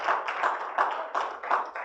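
A church congregation applauding together in a steady rhythmic beat, about three claps per second, moderately loud with a roomy sound.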